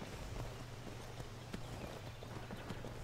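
Horse hooves clip-clop on the ground in Skyrim, a game set in an early-morning landscape before sunrise, with a steady walking rhythm under a constant low ambient hum.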